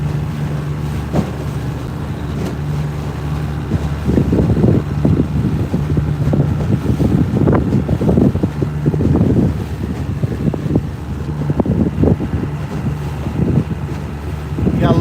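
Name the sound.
wind on a lake from a boat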